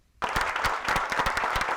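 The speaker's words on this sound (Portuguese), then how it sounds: "Palmas e muito barulho." A crowd of young people bursts into loud clapping after a brief silence, a dense, lively round of applause with sharp individual claps standing out.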